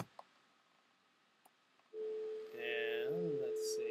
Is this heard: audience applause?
no